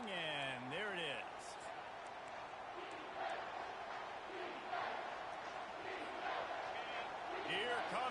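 A home crowd at a college football game roars steadily on third down, a dense distant cheer under a commentator's voice, with a whistle-like warble at the start and end.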